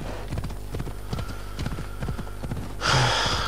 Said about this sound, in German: ich versuche da schon mit dem Pferd zu reiten